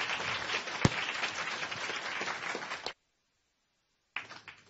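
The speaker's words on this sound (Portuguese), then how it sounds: "Uma salva de palmas pro Rodrigo." Dense applause from a crowd for about three seconds, then a pause of silence before clapping briefly resumes.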